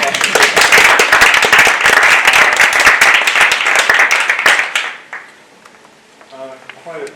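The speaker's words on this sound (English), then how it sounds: "Do we give applause already?" Audience applause at an arts seminar, loud and dense clapping from many hands for about five seconds before fading out, followed by someone speaking faintly at the end.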